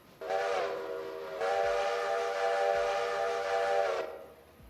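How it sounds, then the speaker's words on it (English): A steam locomotive whistle in the railroad game Railroader sounds one long, loud, sustained blast lasting several seconds, then cuts off, with faint rumbling beneath. "that's fun hearing them blow their horns and the whistles"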